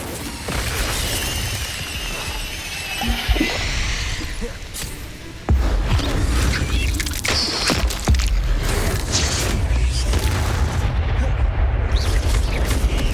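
Incendio and Confringo spell blasts in Hogwarts Legacy go off as repeated booms and crackling bursts, loud and close, with a heavy thump partway through amid ongoing combat effects.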